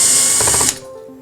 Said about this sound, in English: You're going to start by removing the front 3 screws.